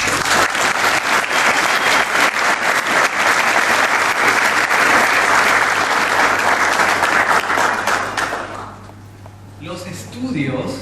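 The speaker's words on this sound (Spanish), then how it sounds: "Eso merece un aplauso." Loud, dense applause from a Paraguayan harp school graduation audience fills the room without a break for about eight seconds, then thins out and briefly swells again near the end.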